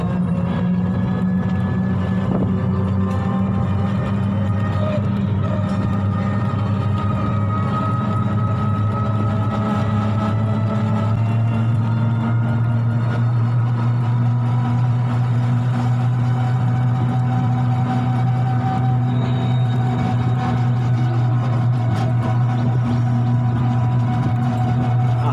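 A toto auto-rickshaw rides along a road beside fields, with a constant, loud, low motor hum and rumbling road noise. Wind rushes throughout for the whole ride, with no talk.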